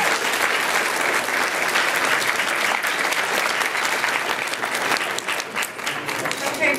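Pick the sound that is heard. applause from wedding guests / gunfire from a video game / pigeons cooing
applause from wedding guests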